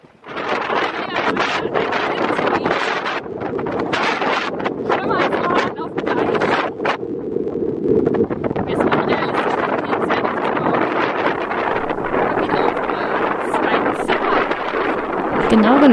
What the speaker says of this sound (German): Gegen Abend kam plötzlich orkanartiger Wind auf.